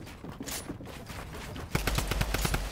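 Rapid gunfire from a junk gun in a battle royale video game, a fast burst of sharp repeated shots with even rhythm following a stretch of muffled background noise.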